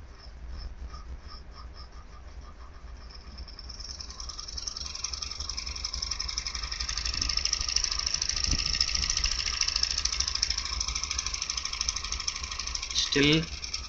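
An AC motor under microcontroller speed control gradually speeds up, a steady mechanical whir with rattling vibration rising in pitch and loudness over the span, ending with a brief louder knock.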